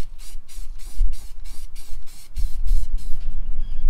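Rust-Oleum automotive primer hisses from a spray can onto 4Runner front bumper brackets and other chassis parts in a garage, coming as about a dozen short, evenly spaced bursts, close and loud.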